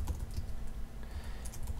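Fingers typing on a computer keyboard into a word processor, with quick, irregular keystrokes clicking close by and no talking.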